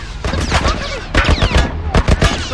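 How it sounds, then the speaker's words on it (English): Heavy automatic fire from a military turret in The Last of Us, loud bursts of rapid shots and booms in quick succession, with short gaps between volleys. "Some kind of military turret"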